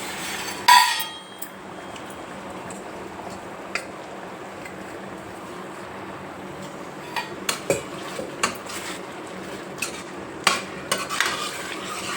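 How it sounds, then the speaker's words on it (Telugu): Boiled cluster beans go into a pan with their cooking water for goru chikkudu curry, producing a steady wet simmer with scattered clinks of a spoon against the pan. "ఇప్పుడు ఉడికించుకున్న గోకరకాయ వేసుకోవాలి, నీళ్ళతో సహా వేసుకోవాలి"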